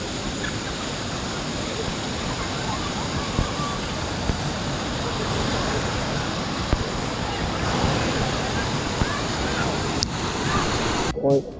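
Water gushing steadily out of De Leon natural spring in Florida, a continuous broad rushing wash with light wind buffeting, loud and close throughout.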